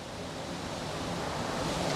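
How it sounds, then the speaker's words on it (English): Water boiling in a vessel on a hot plate gives a steady, dense rushing bubble noise that holds at an even loudness and swells slightly toward the end. "I have some boiling water on the hot plate."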